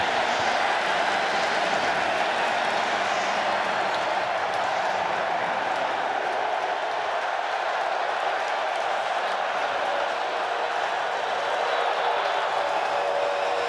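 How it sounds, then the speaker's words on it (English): A dense, steady roar of a large American football stadium crowd in the fourth quarter fills the whole stretch, loud and unbroken, with no individual voices standing out. "Cole, how's the crowd noise? It's deafening down here."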